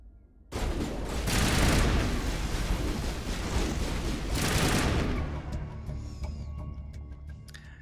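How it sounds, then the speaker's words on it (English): Dense sustained gunfire from a firefight in Mass Effect Legendary starts abruptly and rattles loudly for several seconds in two heavy bursts, then tapers into scattered distant shots and faint clatter. "Open fire. Open fire!"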